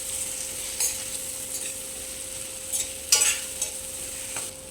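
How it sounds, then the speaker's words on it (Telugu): A spoon stirring salt and coriander powder into a potato tamarind curry in a pan, with a few scraping clinks over a quiet background sizzle. "వీటిని ఇలా బాగా కలుపుకోవాలి, అన్నీ కలిసేటట్టు."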